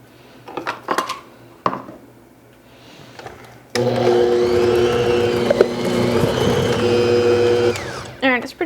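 An electric mixer runs on high, beating peanut butter and butter together for a Reese's peanut butter chocolate cake. It is a steady loud whir that starts abruptly partway through, after some earlier kitchen clatter and a few brief knocks.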